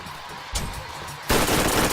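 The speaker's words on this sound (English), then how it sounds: "I just shoot until some of my bullets reach" Gunfire in Borderlands, with Lilith fighting in an Underdome arena: a short burst of shots at the half-second mark, then sustained rapid automatic fire through the second half.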